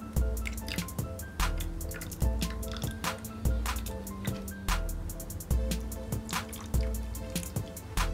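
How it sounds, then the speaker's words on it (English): Water poured from a jar into an ice cube tray: close, continuous trickling and dripping with bubbly, rising fill tones as the compartments take the liquid. "I'm going to take this jar of water and pour it into my ice cube tray"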